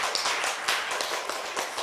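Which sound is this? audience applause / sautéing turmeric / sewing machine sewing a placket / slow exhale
audience applause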